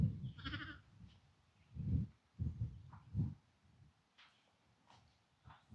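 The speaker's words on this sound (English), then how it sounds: "Nice looking lambs." Lambs bleat on a farm in a few short, close calls spaced through the quiet, with faint rustling and low background noise between them.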